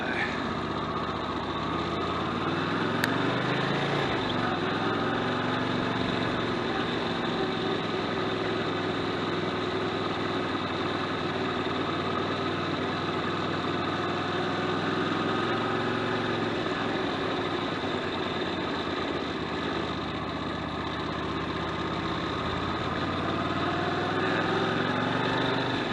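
A motorbike engine runs steadily throughout, a continuous droning hum with a wind-like rush over it, loud and unbroken.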